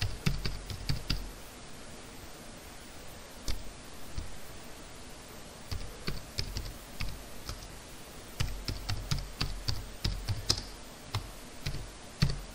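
Keys clatter on a computer keyboard in quick bursts of typing separated by short pauses, near and moderately quiet, with no voices.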